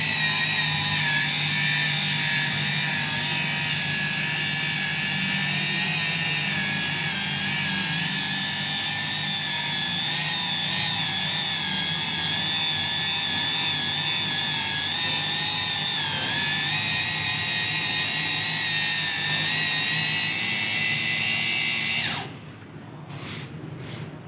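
A polishing machine works car glass with cerium oxide compound, its motor whining in a continuous high steady drone for about twenty seconds before cutting off near the end.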